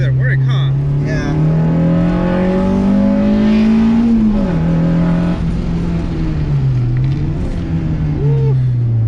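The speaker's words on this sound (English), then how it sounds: "This car's great. It pulls nicely, man." A 1997 Honda Civic DX accelerates from inside the cabin, its engine drone climbing steadily in pitch and dipping briefly at a gear change before pulling again, loud and continuous under occasional talk.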